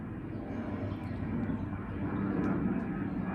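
Airplane passing overhead, a steady broad engine roar that swells slightly toward the end, continuous and fairly loud with no voices.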